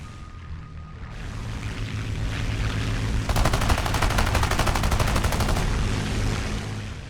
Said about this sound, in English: But immediately he came under fire of enemy fighters.